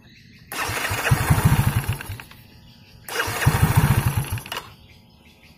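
A fuel-injected Yamaha X-Ride motorcycle, just back from throttle sensor cleaning, is started twice at close range. Each attempt brings a short burst of starter cranking and rough engine firing that dies away after about two seconds.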